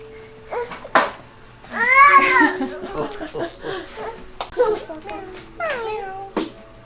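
A cat gives a few meows amid a young child's babbling and laughter, with people talking close by.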